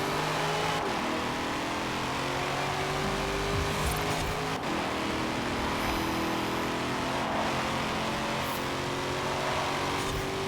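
A C8 Corvette in Forza Horizon 4 drives with its engine droning and revving steadily throughout, pitch rising and falling with shifts and throttle and a few brief clicks and tones on top, no voices.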